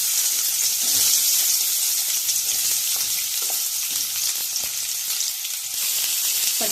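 Onions fry in hot oil in a kadai, giving a loud, continuous close-up sizzle with occasional stirring scrapes and no talk.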